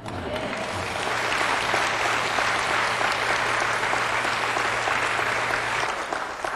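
Dense, sustained audience applause at a Christian testimony broadcast, loud and continuous for several seconds with a low steady hum underneath, tapering slightly at the end.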